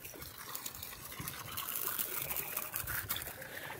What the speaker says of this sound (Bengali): জল ছেঁচা হচ্ছে।